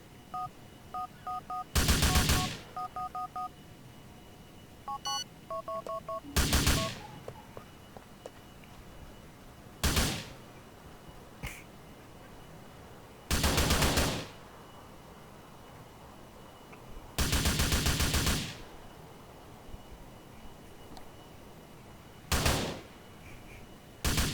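Bursts of gunfire from GTA IV during a police department training session, six short, loud volleys spaced a few seconds apart with quiet gaps, plus a few faint electronic beeps early on.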